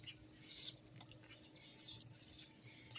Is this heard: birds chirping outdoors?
yes